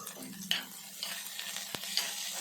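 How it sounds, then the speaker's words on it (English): Finely sliced onion frying in two tablespoons of oil in a pressure cooker, a steady soft sizzle with occasional sharp stirring clicks and scrapes close by, no voices. "Fry this well until they turn slightly golden."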